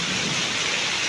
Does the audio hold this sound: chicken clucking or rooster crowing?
no